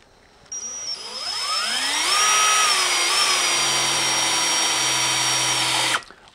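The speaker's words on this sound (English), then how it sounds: "drill it out." Power drill boring a hole through a metal piece, motor spinning up with a rising whine, then a loud, steady, close grinding drone for several seconds before stopping abruptly.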